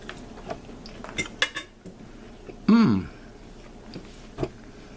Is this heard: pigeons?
no